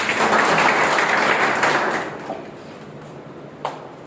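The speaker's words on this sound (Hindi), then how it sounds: "एक बार अपने लिए जोरदार ताली बजाइए।" A seminar audience at an Ayurveda business talk breaks into thick, loud applause that thins out and fades after about two seconds, leaving a few scattered claps.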